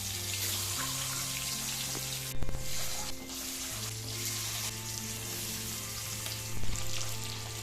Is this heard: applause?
no